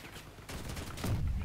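A cannon shot in the Crossout vehicle combat game booms amid rattling fire, with a heavier low-end blast swelling toward the end, close and loud and with no talk over it.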